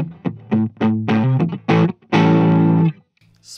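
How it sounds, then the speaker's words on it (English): A 1982 Gibson Les Paul XR-2 electric guitar on its neck pickup in split coil mode, played through distortion as a quick run of picked notes ending in a sustained ringing chord, loud and close with no talking. "So we'll start on the neck pickup."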